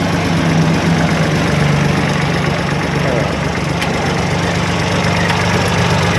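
A used farm tractor engine runs steadily up close, a loud, continuous low rumble with a slight rev and no talk over it.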